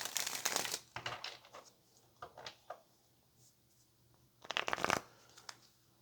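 Tarot cards being shuffled on a table, with a dense riffling burst at the start, scattered lighter card flicks and taps through the middle, and a second strong shuffle near the end, close and fairly quiet.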